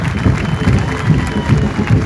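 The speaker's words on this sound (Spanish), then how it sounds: "Le pido un aplauso grande" Crowd at an outdoor campaign launch rally in Famaillá claps in a dense, steady burst of applause with scattered cheers, loud and close throughout.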